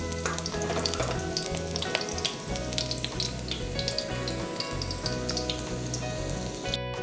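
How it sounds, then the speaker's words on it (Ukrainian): Steady, dense sizzling and crackling of chicken wings and garlic frying in a hot pan, continuous and close, with no talking. "смажуємо разом з чесничком наші крильці"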